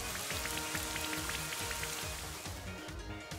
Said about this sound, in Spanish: Lanza lluvia.